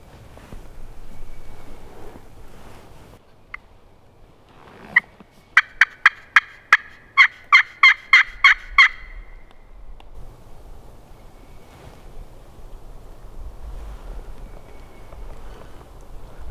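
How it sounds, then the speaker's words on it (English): Wild turkey gobbling in the Mississippi woods at midday: a loud rapid series of rattling gobbles bursts out over a few seconds, then the quiet outdoor background returns. "Well, folks, we just had a bird gobble."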